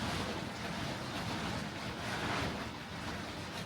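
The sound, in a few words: wind flapping a tarpaulin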